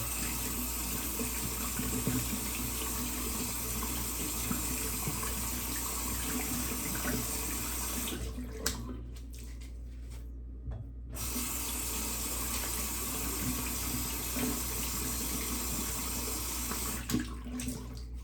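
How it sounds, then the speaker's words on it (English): Water runs steadily from a bathroom tap while a shaving brush is rinsed under it before a straight razor shave, a continuous close splashing with a brief drop-off midway before the flow resumes. "Now let's rinse the brush out."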